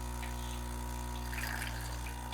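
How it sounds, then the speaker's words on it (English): Water drains steadily from the heat exchange boiler of a Rocket espresso machine, a continuous running gush over a constant low machine hum, with no talking. "lift the lever, and let the water start running"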